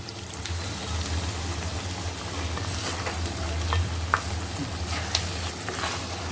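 Carrot halwa with raisins and dry fruits being stirred in a pan, a steady soft sizzle and scraping stir running throughout with a few sharp clinks of the spoon.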